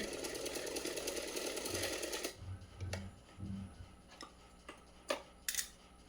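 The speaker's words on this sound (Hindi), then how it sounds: "यहाँ से मार्क तक सिलाई लगाएंगे" A sewing machine stitches a small dhoti for a Krishna doll, with a close, rapid mechanical whirr for about two seconds, then stops, followed by scattered clicks, knocks and handling sounds, with no voice.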